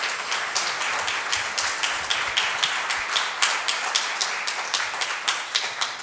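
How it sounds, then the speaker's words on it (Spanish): Sustained audience applause at a Spanish-language lecture welcoming the next speaker, dense steady clapping from a crowd with faint rhythmic accents throughout, no voices. "Un aplauso para él, por favor."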